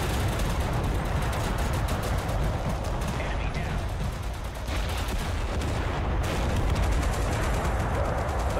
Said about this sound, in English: Oh yeah, big first tank engagement.